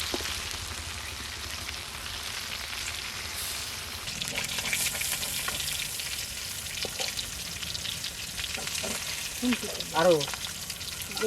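Katla fish pieces fry in hot oil in a pan, a steady crackling sizzle that runs throughout, with clinks and stirring noises toward the end.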